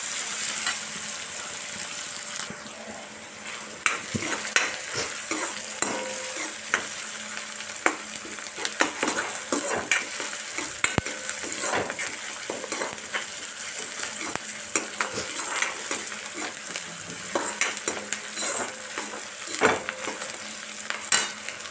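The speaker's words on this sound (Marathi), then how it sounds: "कांदा तांबूस रंगावर येईपर्यंत हे भाजून घ्यायचं आहे" Onion frying in a pan until browned, for a chivda snack made from leftover chapati pieces, with steady close sizzling and repeated sharp clicks of a spoon stirring and scraping throughout.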